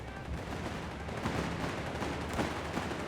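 Rapid gunfire from half-tracks and Panzer tanks tearing into infantry in Company of Heroes 3, dense overlapping bursts and sharp cracks over a busy battle din, fairly steady with a few louder reports.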